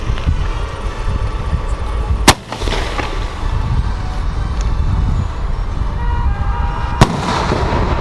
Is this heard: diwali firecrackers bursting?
yes